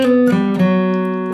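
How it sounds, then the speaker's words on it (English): A guitar picks a short bluegrass lick built on a pentatonic scale, a few quick, bright notes ringing out closely with no talking. "So here's what the first little section sounds like."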